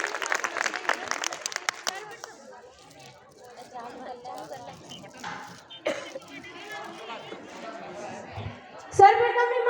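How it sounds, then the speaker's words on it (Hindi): An audience at a college event applauds for a student, a dense burst of clapping for about two seconds that gives way to crowd murmur and then talking. "एक बार जोरदार तालियां रश्मि के लिए।"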